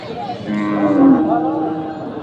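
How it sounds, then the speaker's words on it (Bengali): A single loud, close cow moo at a busy rural cattle market in Nadia, West Bengal, one drawn-out low call lasting about two seconds over faint crowd murmur. "গাই গরু।"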